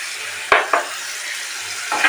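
Chicken roll filling with tomato and soy sauce stir-fried in a pan, a steady close sizzle broken by a few sharp scrapes and knocks of the spatula against the pan.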